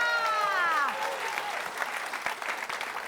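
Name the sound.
audience applause for all participants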